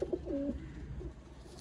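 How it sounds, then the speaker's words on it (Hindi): A pigeon coos in a short, low, throaty phrase close by, then fades into quiet room noise. "और बहुत शानदार उड़ा हुआ असद भाई ये कबूतर है।"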